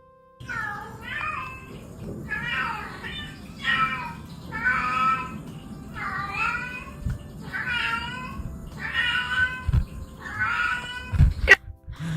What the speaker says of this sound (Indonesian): Nah ini kucing komplain.